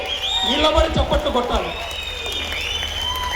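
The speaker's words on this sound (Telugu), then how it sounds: "ఆయనకు కూడా మనం నిలబడి చప్పట్లు కొట్టాలి" An audience at a Vemana Jayanti gathering applauds the MLA, a dense clapping crowd under a loud voice speaking over a public address system, the claps thinning as the talk continues.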